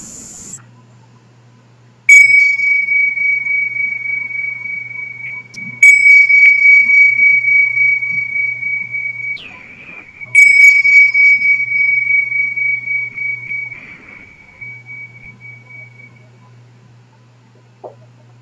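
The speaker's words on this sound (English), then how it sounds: "So we'll just start with the sound of the bells." Three clear meditation bell strikes spaced a few seconds apart, each ringing out and slowly fading, with a soft low hum underneath.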